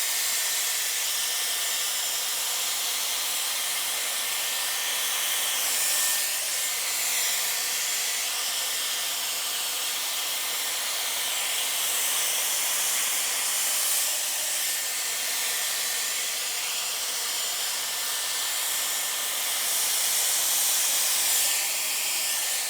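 A Dyson hair dryer blows continuously while hair is styled and curled, giving a steady close airy hiss that holds at an even level with slight surges as the airflow shifts.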